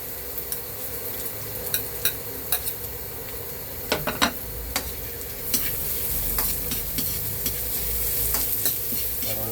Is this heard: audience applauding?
no